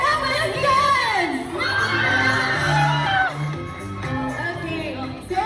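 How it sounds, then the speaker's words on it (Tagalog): Crowd at a Dota 2 gaming event cheering, shouting and whooping loudly and continuously, with many overlapping voices and rising, excited yells throughout. "Isa pa nga hiyawan naman yan!"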